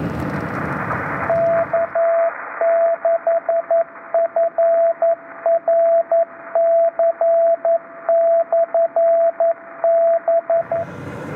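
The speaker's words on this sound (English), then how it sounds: "who likes that brap sound of packet, 1200 baud packet?" A 1200 baud packet radio data burst cuts in as a harsh, buzzy warbling tone in rapid stuttering pulses, lasting several seconds after a stretch of radio static and ending back in noise.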